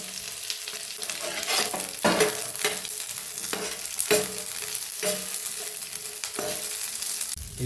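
Capsicum and onion fry in a pan for egg chilli, a close, busy sizzle broken by repeated scraping strokes of a spatula stirring through the vegetables, no voices.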